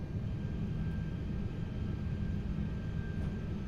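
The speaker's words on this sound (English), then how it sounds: "sounds like 2 good engine starts" Airbus A380 engines running steadily just after start in a flight simulator, a low continuous droning rumble with a faint steady whine above it, even and unbroken throughout.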